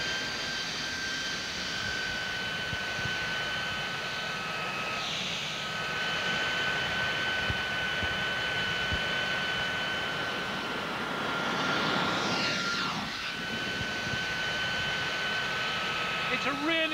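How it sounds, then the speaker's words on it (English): Jet engine of a jet-powered cycle running with a steady, smooth roar and high whine throughout, the whoosh of passing air rising and falling as it moves, with a person talking over it. "What better place to take my first ride on a jet-powered cycle?"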